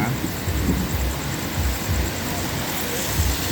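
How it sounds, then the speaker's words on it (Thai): Deep, rolling thunder from a storm rumbles low and steady through the whole stretch, with broad noise like rain or wind layered over it and no speech. "ฟ้าแลบฟ้าร้องทุกคนจ๋า"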